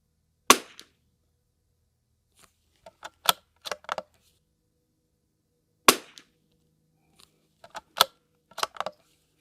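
Sharp rimfire rifle shots from a CZ455 Trainer with an aftermarket trigger at an outdoor range, two loud cracks spaced several seconds apart, each followed by quieter clicks and clatter of bolt cycling and handling.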